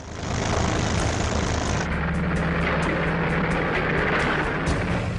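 A World War II Luftwaffe propeller aircraft flies past with a steady droning engine roar, loud and continuous, its tone shifting partway through, with no talk.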